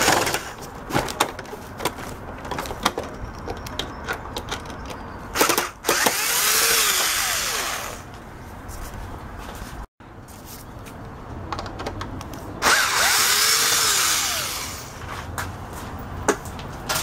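Bursts of a power screwdriver whirring as it backs screws out of a Hoover model U6252-910 upright vacuum cleaner, two longer runs separated by clicks, handling noises and short pauses, with no talk heard.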